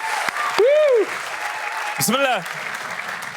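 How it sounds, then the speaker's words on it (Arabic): Audience applause at a live Moroccan comedy show, a warm crowd clapping steadily beneath a performer's voice and short sung or spoken phrases. "عافاكم تصفيقات حارة"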